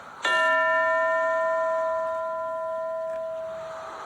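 A single electronic bell tone struck once in a classroom setting, ringing clear and sustained with a bright harmonic stack that slowly fades over a few seconds.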